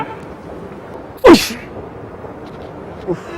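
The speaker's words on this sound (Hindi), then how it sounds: "मैंने छींक मारी थी ना तो नोज़ी निकल आई" A single sharp sneeze bursts out mid-clip amid a busy shopping mall, brief and loud over a low background murmur, with a short voice heard near the end.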